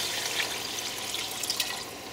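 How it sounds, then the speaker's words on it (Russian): Water poured into a pan of fried onions, a steady close splashing rush that runs alone for about two seconds. "Поэтому я добавляю просто воду."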